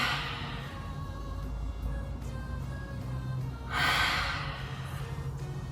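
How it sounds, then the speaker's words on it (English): Breathing in and out during an abdominal exercise routine, soft steady breaths with one stronger, louder exhale near the end, close and alone. "Inhale, exhale."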